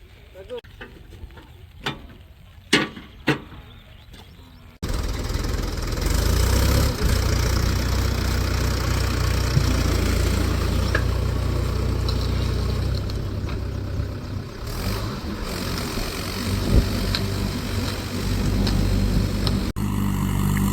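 A power steering tractor ploughs a wet field in the rain, its engine a loud, steady, close rumble that starts suddenly after some scattered clicks, with voices talking over it.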